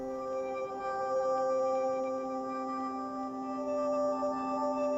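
A sustained MPE pad synth voice played from a Joué Play MIDI controller with a keyboard overlay, holding steady layered tones whose timbre shifts gently as a finger glides along the pad, alone and moderately loud.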